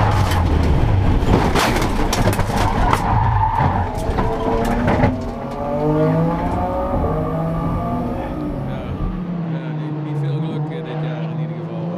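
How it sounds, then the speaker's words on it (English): Onboard a race car at Spa during a crash: loud tire skidding and engine roar with impact noise early on, then a revving engine whining up and down as the car slides and slows. "This is my second crash at Spa"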